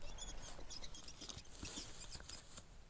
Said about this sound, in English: I don't know if you guys could hear that squeaking. That's the shock spring going.